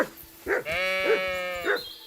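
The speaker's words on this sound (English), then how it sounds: "Hi, sheep." Sheep in Kingdom Come Deliverance II bleat close and loud, three wavering calls in quick succession with little else around them.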